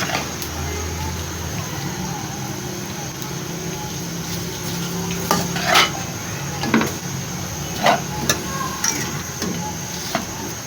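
Small-cut potato pieces being stirred and roasted in a pan for samosa filling, a soft sizzle under repeated scraping and clinking of a spoon against the pan, the knocks coming irregularly and growing more frequent toward the end.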